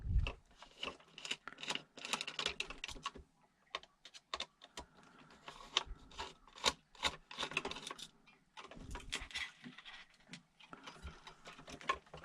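Removing screws from an RC4WD Gelände 2 1/18 scale RC truck with a 1.5 mm hex driver, with bursts of close scratchy clicks, rattles and ticks separated by short pauses.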